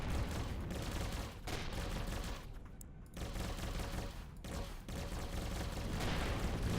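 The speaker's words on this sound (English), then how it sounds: "Let's pulse these lasers at him." Pulse lasers firing at an enemy ship in the space game Avorion, a continuous dense barrage of rapid energy shots broken by a few brief gaps, heard fairly quietly and without talk.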